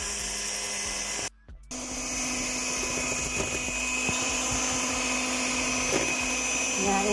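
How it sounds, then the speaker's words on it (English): Electric mixer whirring steadily at low speed through very cold heavy cream and condensed milk, a continuous motor drone with a brief cutout near the start, heard alone without talk. "Beat mixture at low speed until it begins to thicken"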